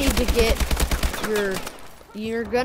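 Rapid automatic AK-47 fire in the Call of Duty: Advanced Warfare video game, a dense burst of loud shots followed by a short pause and another burst, with a voice talking over it.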